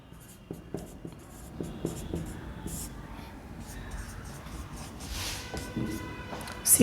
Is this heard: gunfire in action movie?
no